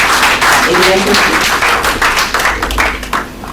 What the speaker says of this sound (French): je prie d'applaudir